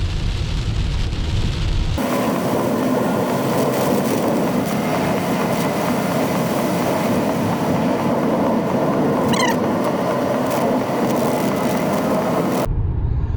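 A car cruises along a two-lane highway curving through the hills, a steady, loud broadband road roar filling the cabin from start to finish, with no talk.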